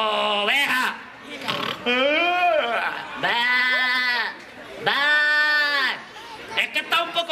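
A man imitates a sheep's bleat with his voice at an outdoor market, giving several long, wavering, nasal bleats in a row, loud and close, with brief pauses and some sound between them.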